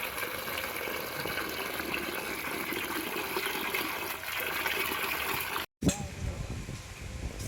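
Running water gushes steadily in a village kitchen while fish is being washed before cooking, a loud continuous splashing stream broken by a short pause near the end before the flow resumes.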